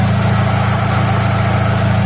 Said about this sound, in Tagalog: umaandar yung makina natin